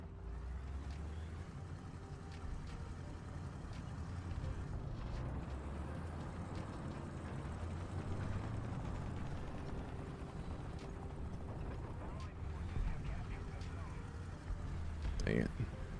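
Engine noise in the War Thunder combat game is a continuous low, rumbling drone that holds steady throughout, with a brief louder burst near the end.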